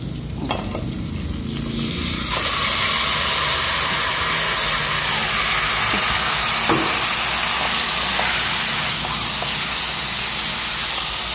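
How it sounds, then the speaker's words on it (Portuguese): Garlic and rice sautéing in a hot pan give off a steady, loud sizzle and hiss that runs from start to finish, with a few soft stirring scrapes and no voices. "É só fritar o alho aqui, refogar o arroz."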